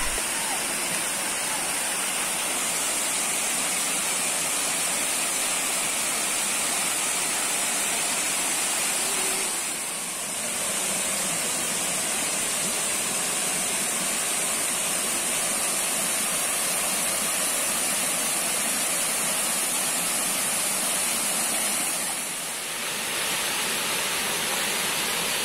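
Seasonal Curug Kalba waterfall in the South Serayu mountains, heard from the base near its catch basin as a steady, close, broadband rush of falling water that dips briefly twice.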